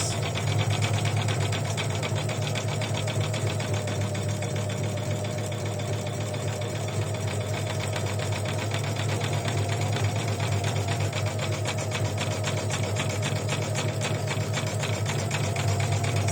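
An embroidery machine stitches an in-the-hoop cross bookmark through tear-away stabilizer, its steady, even whirring and rapid needle chatter running unbroken and fairly loud from start to finish, with no talking.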